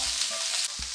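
Chopped onions and green chillies frying in oil in a pan, a close, continuous sizzle with soft stirring scrapes, steady and fairly loud with no talking.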